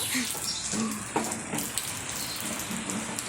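Steady rain falling outdoors in wet weather, a dense hiss of drops with a few sharper taps, heard up close and continuously, with faint talk in the background.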